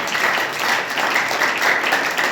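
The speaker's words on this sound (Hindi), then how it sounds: "आइए एक जोरदार ताली हम परमेश्वर को दें। जोरदार ताली बजाएं, जोरदार।" Loud applause from a church congregation after a sermon, a dense continuous clapping wash that holds steady from start to finish with no voices on top.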